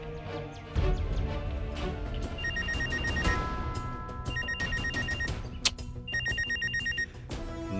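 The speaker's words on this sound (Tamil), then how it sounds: "நொயின்னு ஃபோன் அடிச்சுட்டே இருக்கான்டா" A telephone rings repeatedly in evenly spaced bursts of bright electronic tones, fairly faint against a busy background of clatter and room noise.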